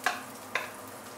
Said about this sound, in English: you're going to saute the garlic and also ginger for a minute or two